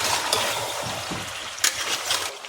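Chicken sautés in a pan while it is stirred, a close, continuous sizzle and hiss with soft scraping and small knocks from the spoon over a short stretch.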